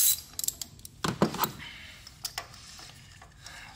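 A wrench turns a spark plug on a Toyota RAV4, giving a series of small metallic clicks and ratchet-like ticks, close and fairly quiet, denser at the start and sparser toward the end.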